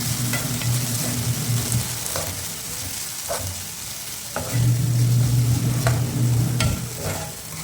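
Curry leaves fry in hot oil for vegetable upma, giving a steady close sizzle with crackling pops. It swells louder in two stretches as the pan is stirred, with no talking.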